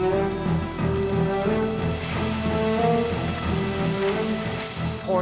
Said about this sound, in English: Pouring down with rain now.